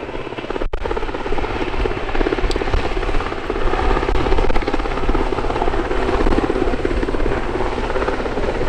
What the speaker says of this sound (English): These helicopters have proved themselves over and over and over again on maritime and land-based rescues